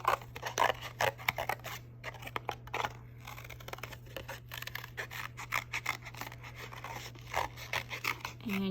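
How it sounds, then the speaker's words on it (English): Scissors cutting a heart shape out of thick paper or cardboard, with steady repeated snips and rasping cuts close up throughout, no talking. "And then you're going to cut your heart out."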